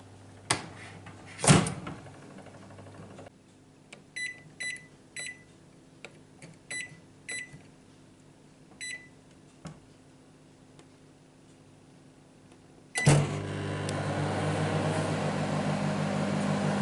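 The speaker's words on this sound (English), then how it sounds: "just whack it in the microwave for 5 minutes" A home microwave oven in a kitchen, with a door clunk and button beeps while it is set, then the steady hum of it running, close and alone with no voices.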